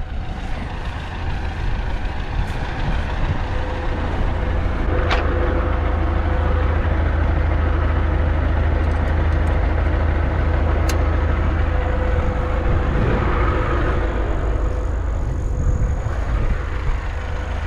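MTZ-82 tractor hauling round hay bales, a loud steady diesel engine drone with heavy low rumble running continuously, close and unbroken, with faint rattles and clanks on top and no talk.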